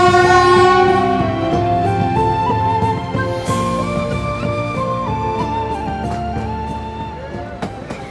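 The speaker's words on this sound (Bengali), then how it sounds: "জগ করে আমাদের ট্রেন চলছে সিলেটের উদ্দেশ্যে।" A passenger train on an overnight run toward Sylhet rumbles loudly and continuously, with sustained droning tones holding and shifting over a steady broadband roar that fades slightly over time.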